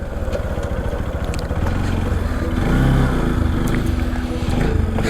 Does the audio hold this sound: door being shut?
no